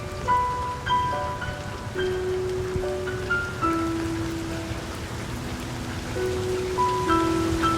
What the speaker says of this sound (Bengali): মাঝপথে শুরু হলো ঝড়ের সাথে তুমুল বৃষ্টি